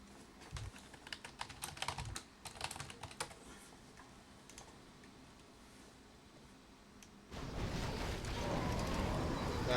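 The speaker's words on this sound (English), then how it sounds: "I was typing in Discord." Rapid clattering keystrokes on a computer keyboard come in quick bursts over the first few seconds, then fade into a quiet hiss before a broader wash of noise rises at the end.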